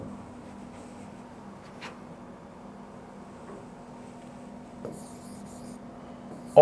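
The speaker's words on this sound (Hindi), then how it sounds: "मैं लिख रहा हूं" Handwriting with pen or marker during a maths lesson: faint, steady scratching strokes at close range, with a couple of small taps and a sharper knock at the very end, no talk over it.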